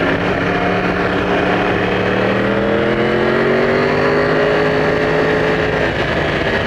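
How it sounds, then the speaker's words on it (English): A Yamaha R1 sport motorcycle engine runs continuously, loud and close, its rough idle rising into a slow, swelling rev and easing back, with no speech over it. "Here it's just idling like a tractor off idle."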